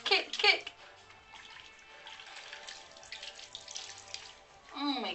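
Water in a baby's bath sloshes and splashes in a burst at the start, settles into a soft trickle, then splashes again near the end, close and fairly quiet.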